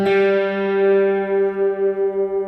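Two sustained guitar notes ring together slightly out of tune, producing a slow wavering beat in the volume as they decay.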